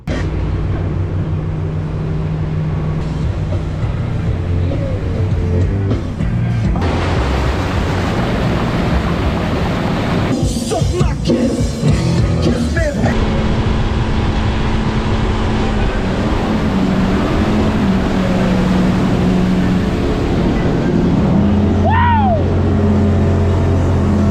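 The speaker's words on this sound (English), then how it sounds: "we're gonna give this boat its first test run" A newly built wake boat's engine drones steadily on a lake for the whole stretch, with water rushing and splashing; loud and close, with shifts as it speeds up.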